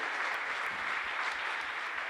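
Steady, dense applause from a large church congregation, a continuous wash of clapping with no pauses, fairly loud throughout.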